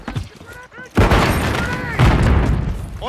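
Grenade blast in Call of Duty Modern Warfare 3: two heavy, loud booming detonations about a second apart, each a broad roaring burst that lingers, over a background of game battle noise and radio-style voices.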